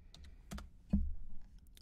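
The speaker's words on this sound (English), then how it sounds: "if you type array now," Quiet, close computer keyboard clicks: a handful of separate key taps spaced irregularly across a short pause while entering a command in AutoCAD, with one firmer press standing out.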